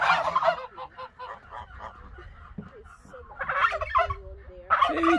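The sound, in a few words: turkey gobbling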